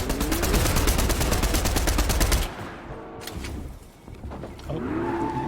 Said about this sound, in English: he's getting back in the car.